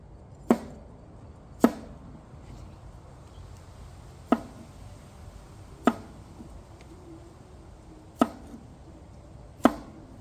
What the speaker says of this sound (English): we're going to cut the ends off of them